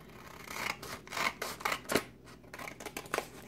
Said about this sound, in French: on va couper à peu près la moitié de la page